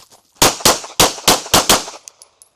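Six sharp gunshots in quick, slightly uneven succession during a shooting movement drill, loud and close, each with a short echo tail, followed by a few faint metallic clinks.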